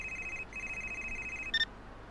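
A telephone rings inside the Gray Matter video game, a steady electronic tone that pauses briefly, then a short higher chirp near the end, moderately loud against faint background.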